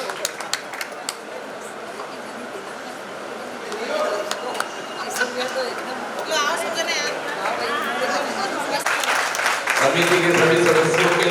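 An audience at a Shiv Mahapuran religious discourse in Ujjain claps, starting as scattered applause under a talking voice and swelling into loud, full applause near the end.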